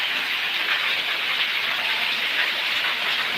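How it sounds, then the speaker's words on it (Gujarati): Steady, dense hiss of heavy rain pouring down in Patan, loud and continuous without a break, with no voices. "વરસાદ તો પડી ગયો છે જોરદાર"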